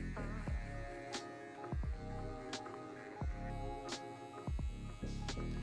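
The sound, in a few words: hair trimmer shaving sideburn area and neckline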